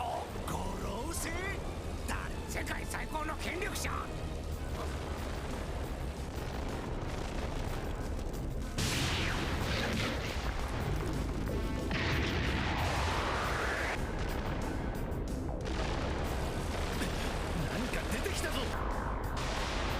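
Explosive energy-attack effects from a One Piece anime episode, a dense, continuous roar of blasts and booming impacts with loud bursts around the middle, while people talk over it throughout.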